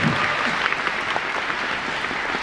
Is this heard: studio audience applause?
yes